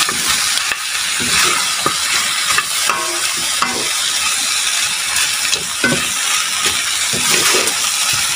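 Food frying in a pan is stirred, a dense, loud sizzle broken by repeated scraping and clinking strokes that come every second or so.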